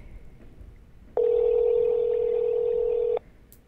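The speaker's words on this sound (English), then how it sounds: "It's ringing." A single long ring tone sounds for about two seconds on an outgoing phone call, a clear steady electronic tone over a faint hiss, then stops.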